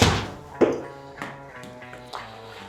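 A golf ball is struck in full shots with a Cleveland RTZ sand wedge, giving a close, sharp thunk followed by several softer, quieter taps.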